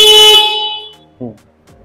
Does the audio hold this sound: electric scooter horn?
yes